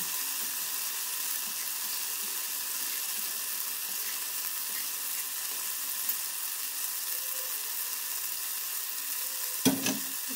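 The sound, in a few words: stirring pounded rice into a hot pan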